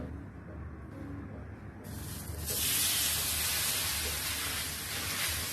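Oil sizzling on a hot tava while cabbage thalipeeth cooks, a soft steady hiss that swells into a louder bright sizzle about halfway through and holds there.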